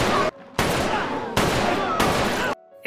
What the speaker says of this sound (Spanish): El sonido de los disparos hace que las personas más se angustien